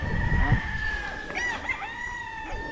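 Farm chickens cluck and crow close by, a rooster's drawn-out call layered over several overlapping hen calls, with a short thump at the start.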